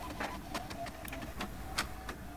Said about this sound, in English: Once the printer is ready, we started printing with our refilled cartridge.